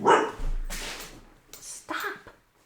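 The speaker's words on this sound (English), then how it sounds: "I have a dog here" A dog barks indoors in a few sharp, close bursts, interrupting a spoken astrology talk.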